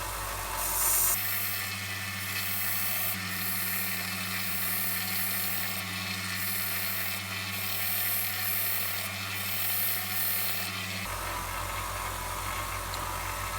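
Kitchen knife being sharpened on a spinning belt sander: a steady, loud grinding and rubbing hum with periodic rasping swells, running continuously for about ten seconds before it cuts off abruptly.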